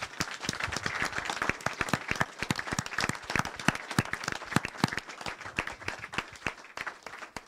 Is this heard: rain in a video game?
no